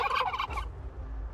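A turkey in the game Last Day on Earth gives one quick, loud gobble up close, then the sound drops to low background rumble.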